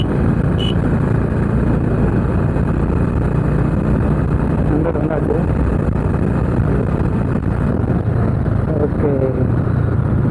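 Loud, continuous engine drone of a Honda Highness CB350 motorcycle as it decelerates under engine braking while downshifting with a slipper clutch, with wind noise throughout.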